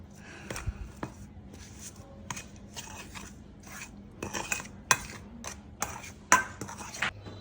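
A cauliflower and bitter gourd chop filling is mixed with turmeric, chilli, cinnamon and salt, producing scattered soft clicks, scrapes and taps at close range with uneven pauses.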